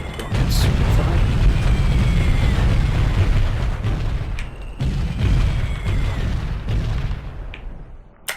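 Continuous heavy booming from artillery fire in the helicopter combat game Comanche Gold, a dense low rumble with repeated blasts that barely lets up across the whole stretch, with a brief break just before the fifth second.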